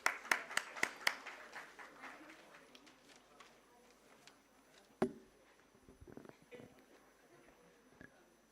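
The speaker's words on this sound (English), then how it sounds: "let's have a huge round of applause for ma'am" Audience at the listing ceremony of Roadstar Infra Investment Trust gives scattered applause for a woman called up to speak, a few sharp claps at first, then sparse faint clapping and a single loud knock.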